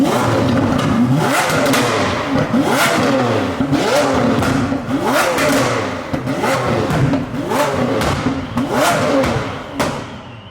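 Lamborghini Aventador engine revving hard over and over, loud rising and falling engine roars with crackling exhaust pops between pulls, recorded close up.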